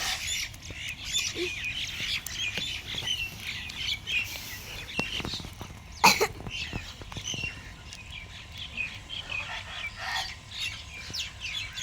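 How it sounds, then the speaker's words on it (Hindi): Several crows calling around an outdoor village farmhouse meal spot, harsh scattered caws mixed with other bird chirps at moderate distance, with a sharp knock midway and faint background sound. "कौवे आ गए जैसे मैंने ये खाना यहाँ पे खोला कौवे आ गए"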